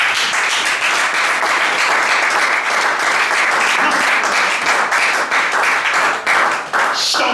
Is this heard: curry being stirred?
no